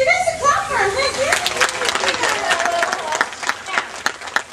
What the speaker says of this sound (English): That's a clap for him.